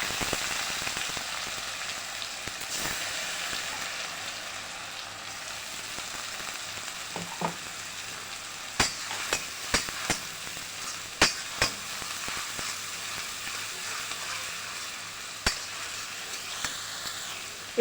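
Onions frying in a pan toward golden brown, with a long, soft, steady sizzle broken by scattered sharp clicks and scrapes of a spoon against the pan.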